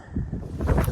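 Wind buffets the microphone in low rumbling gusts, rising toward the end.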